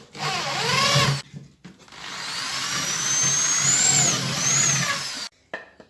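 Hand drill boring through a piece of scrap wood: a short whining burst, a pause, then a longer sustained grinding whir that rises and falls before cutting out, close by with no talk.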